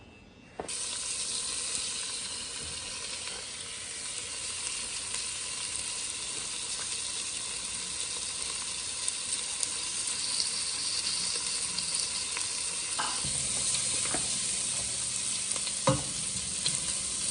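Smoked bacon fries in melted butter in a pot, giving a loud, continuous, bright sizzle with a few light clanks of a utensil toward the end.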